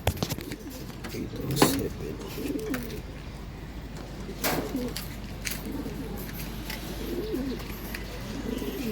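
Pigeons coo repeatedly in a loft, steady low murmuring calls running throughout with a few sharp wing or perch knocks, while a person talks quietly over them.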